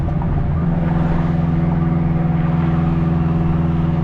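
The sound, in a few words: 800HP AWD 2002 Acura RSX Type-S straight piped accelerating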